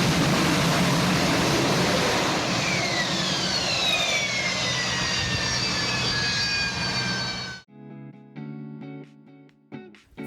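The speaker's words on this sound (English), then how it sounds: "That was the sound of a Harrier GR3 performing a vertical landing." A Harrier GR3 jump jet makes a vertical landing: a loud, roaring jet blast with high whining engine tones sliding downward, then it cuts off abruptly near the end, leaving fainter mechanical clanks.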